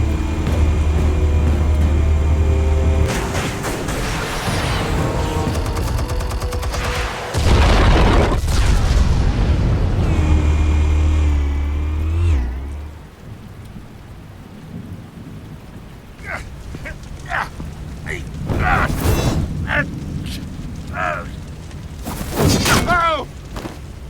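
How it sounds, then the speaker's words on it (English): Explosives detonate in Batman: The Telltale Series as heavy, rumbling booms that roll out for several seconds, then fade into quieter debris rattles and crackles, with voices speaking in between. "Explosives armed. Fire when ready."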